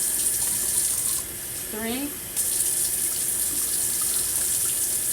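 A faucet runs steadily for rinsing, a loud continuous hiss that briefly drops, with a person speaking a few words over the flow.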